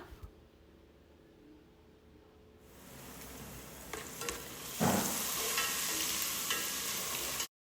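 Onion pieces hit hot ghee and coconut oil in a pan for fish biryani, starting a close, steady sizzle that rises partway through and continues with stirring before stopping abruptly.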